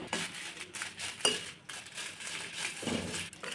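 Red chillies dry-roasting in a pan, stirred with a metal spoon: light scraping and clinks against the pan, soft and close, with a few sharper taps.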